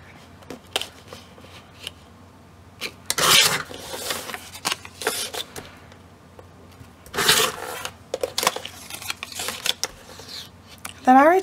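A paper trimmer slicing printable mini book pages, with several sharp sliding cuts and rustling paper handling close by, plus brief talking in between.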